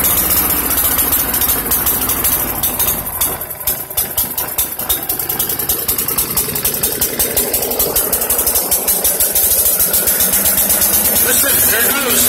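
A lawn mower engine runs rough on fumes from dirty, varnished fuel, its loud chugging idle gradually picking up speed while someone talks over it.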